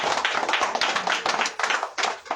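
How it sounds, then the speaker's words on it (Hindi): Congregation at a Hindi-language Christian church service clapping hands together in a steady, fast, loud rhythm of dense claps, with no speech over it. "ताली बजाएं, परमेश्वर को धन्यवाद करें"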